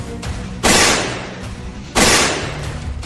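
Two loud gunshot bangs about a second and a half apart, each a sharp blast trailing into a short echoing decay, used as a sound effect in a crime news report.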